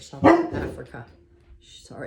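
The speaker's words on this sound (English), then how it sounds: "that's my dog barking" A dog barks close by, a sharp bark or two over a person reading aloud, with a faint whine trailing after.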